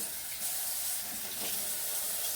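A kitchen tap runs steadily while hands are rinsed at a sink, giving a close, continuous splashing hiss of water with slight shifts as the hands move through the stream.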